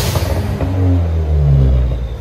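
Exhaust of a 2018 Ford Fiesta ST on its stock system before a cat-back install, a loud, close low rumble with a droning tone that rises slightly and settles over about two seconds.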